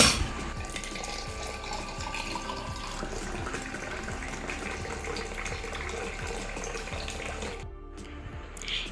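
A chilled carrot cool drink is poured into a glass over ice cubes, a steady close splashing trickle that runs for several seconds, then stops abruptly near the end.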